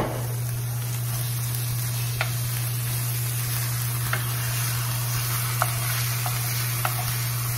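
A pound of ground turkey frying in garlic scape oil, giving a steady close sizzle with a low constant hum and occasional faint clicks of stirring.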